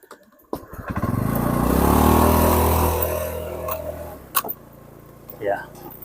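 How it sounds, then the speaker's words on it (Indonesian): A motorbike engine revs up loudly after the bike is turned around on a rough road in West Taliabu, then settles back toward idle, with a couple of sharp clanks and a brief voice near the end. "alhamdulillah kita sudah berhasil mutar motor"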